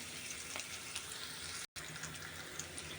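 Vegetables frying in a pan give a steady, close hiss of sizzling oil that runs unbroken except for one brief cutout. No voices are heard.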